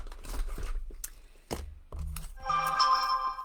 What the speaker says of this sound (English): pretend like my phone didn't just make a noise